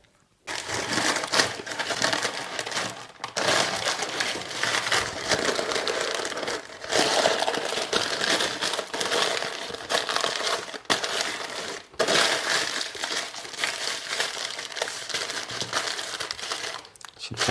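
Baking paper crinkles and crushes while being wrapped around pulled pork into a parcel, a dense continuous rustling with brief pauses, close and fairly loud throughout.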